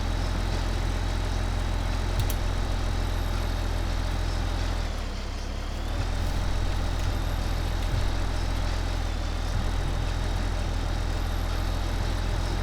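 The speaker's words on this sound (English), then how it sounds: "This tractor is struggling with the weight." Tractor engine in Farming Simulator 2015 laboring under a heavy hauled load on a twisty road, a steady low droning rumble that runs continuously throughout with a brief dip midway, no talking.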